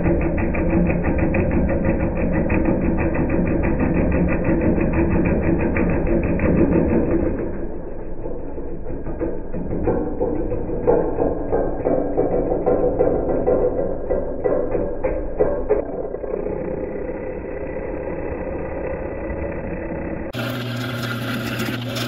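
A manual wood lathe turns a tire thumper, giving a steady mechanical whir and rumble that drops slightly in pitch partway through and continues with faint rattling, loud and close with no talk.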